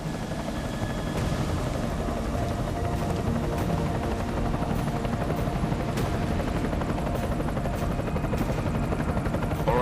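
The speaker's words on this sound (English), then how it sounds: "Enemy helo sighted." Enemy helicopter in the Deus Ex Mankind Divided video game, a loud continuous rotor thump and engine roar filling the clip with faint crackling, no voices.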